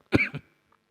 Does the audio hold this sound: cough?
yes